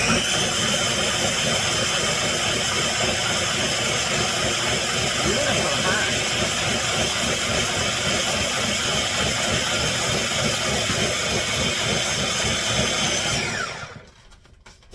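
A blender roars continuously at high speed, loud and close, churning a thick cooked sweet potato purée for over ten seconds before abruptly switching off; a voice speaks briefly over it.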